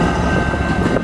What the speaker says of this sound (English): That's a bunch of trains coming through